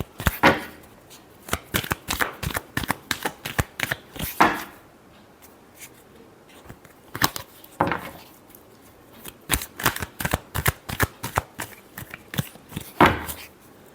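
Tarot cards are shuffled by hand in a quick run of crisp riffling bursts, some louder slaps and longer flurries, heard up close with no talking.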